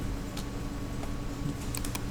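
Computer keyboard keys pressed while working in SketchUp, a few scattered clicks over a low steady hum, close and fairly quiet, with no talk.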